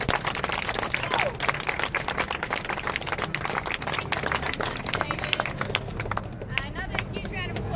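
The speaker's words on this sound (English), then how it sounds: "Another huge round of applause for our 3 speakers" A crowd at an outdoor lion rally on town hall steps claps steadily, dense applause with some speech mixed in and a few cheers near the end.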